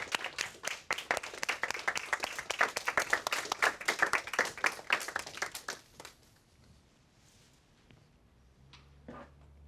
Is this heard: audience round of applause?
yes